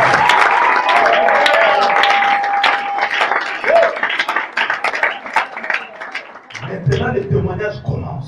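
A church congregation at a prophetic conference claps and cheers, loud continuous applause with crowd voices, then a speaker's voice cuts in near the end.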